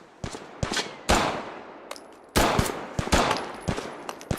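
Gunfire from two machine guns in Fallout 4 survival mode, sharp loud shots in irregular bursts with echoing decays, some overlapping volleys close by, no talk.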